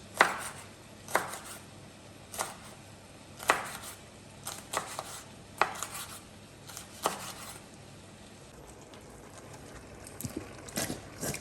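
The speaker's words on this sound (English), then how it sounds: "Now I'm just going to chop up my chilies, start at one end, and just cut them like this." A knife chops through chillies on a cutting board in sharp, separate taps about a second apart, close and fairly quiet, with faint rustling between strokes.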